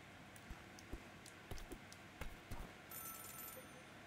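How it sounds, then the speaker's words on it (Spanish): A faint electronic telephone ring in the Celeste video game's chapter two ruins, starting near the end over soft clicks and a low background hum, with no talk. "Suena el teléfono."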